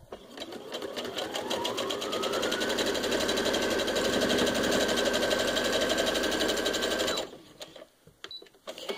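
A sewing machine stitches a puff quilt seam in a steady, fast mechanical rattle that speeds up and runs continuously for about seven seconds before stopping abruptly, leaving a few faint clicks.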